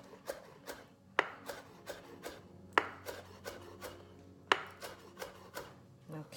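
A knife chops fresh chives on a cutting board in a steady series of crisp, close taps, several sharper thuds standing out among lighter strokes, with no talking.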